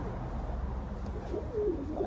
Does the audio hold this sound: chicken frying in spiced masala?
no